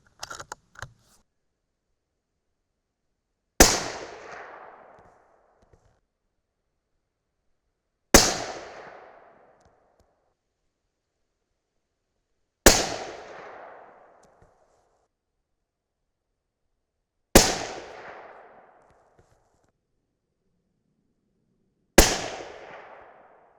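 Five evenly spaced 6.5 Creedmoor rifle shots firing 130-grain Sierra GameChanger loads, each a sharp, loud crack with a short decaying echo, roughly four to five seconds apart, following a few faint clicks at the start.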